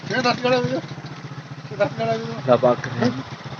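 A motorcycle engine rumbles low and steady during a ride, mostly buried under someone talking nearly the whole time.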